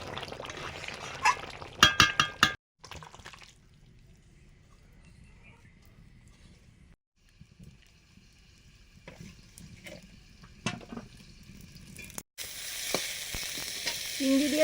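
Vegetables frying in a pan for a home-cooked rice meal, soft sizzling with clattering stirring and scraping bursts, some quiet gaps, and a louder hiss near the end.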